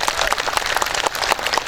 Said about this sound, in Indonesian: Tepuk tangan dulu buat muslimat NU nya